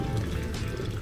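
Spring water pours steadily into a homemade fishpond waterfall stocked with tilapia, giving a continuous close splashing and trickling rush with no talk.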